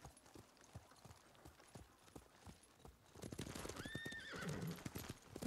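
A horse in Ghost of Tsushima trots with quick, steady clip-clopping hooves, then lets out a clear rising whinny and snort near the end, close and distinct.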